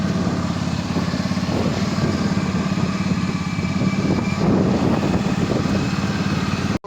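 A broken-down scooter's small engine runs steadily with a buzzing, rattling drone, close by and fairly loud, cutting off abruptly at the end.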